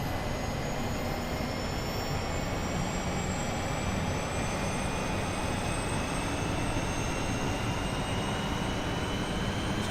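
Outdoor airport ambience at Dusseldorf at 6 a.m., a steady broad roar of aircraft jet engines with faint rising whine tones, continuous and fairly distant, no voices.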